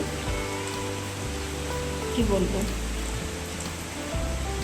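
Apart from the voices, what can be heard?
light drizzling rain falling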